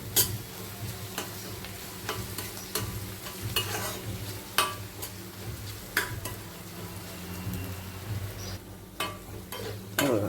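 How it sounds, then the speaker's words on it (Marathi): Ginger garlic paste sizzles quietly in a pan while being stirred, with a steady fry hiss broken by regular sharp scrapes and taps of a spoon against the pan. "हे बघा आले लसणाचं कच्चेपणा जायपर्यंत आपण परतत राहायचं असं"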